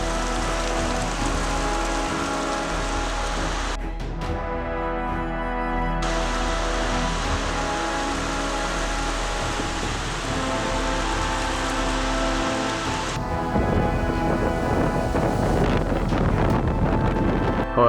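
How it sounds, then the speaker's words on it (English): Heavy wind-driven rain from a Wisconsin squall pours down in a loud, continuous roar, with gusts buffeting the microphone and the downpour growing more intense toward the end. "Heavy wind-driven rain and hail can make driving almost impossible"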